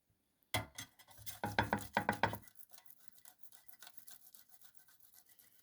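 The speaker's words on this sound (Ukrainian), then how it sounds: "Спочатку я натираю три яйця." Boiled eggs are rubbed over a grater in a run of quick rhythmic rasping strokes, loud at first and then fading to lighter scraping, close up with no talk.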